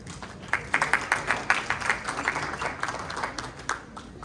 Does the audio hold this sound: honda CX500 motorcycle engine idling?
no